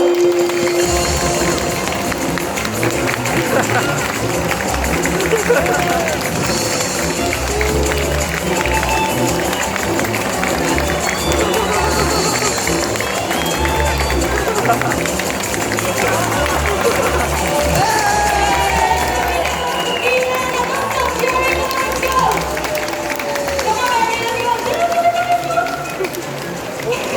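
A crowd of supporters cheers continuously during a bird race at a bird show in Jurong Bird Park, a dense wash of voices and shouts with scattered claps, loud and sustained under an announcer's talk.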